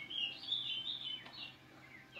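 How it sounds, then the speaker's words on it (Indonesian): Wild birds chirping and singing outdoors in a village, a steady run of bright, high tweets and warbles at moderate distance with no talk. "Suara burung ini bukan disangkar ya."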